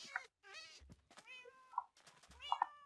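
A cat meowing in Minecraft, several short pitched meows spaced across a couple of seconds, fairly close and clear with no talk over them.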